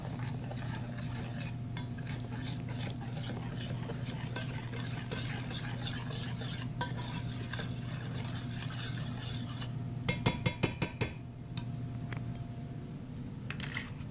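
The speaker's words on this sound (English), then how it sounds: "Stir it." Syrup cooking in a pan is stirred with a utensil, a soft continuous scraping over a low steady kitchen hum, with a short burst of quick clinks partway through.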